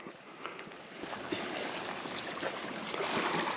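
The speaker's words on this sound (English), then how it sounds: "Well, I hear the ocean." Steady broadband wash of ocean water along a remote coastal prairie shore at Flamingo in Everglades National Park, a continuous, fairly close rush that swells slightly toward the end, with no voices.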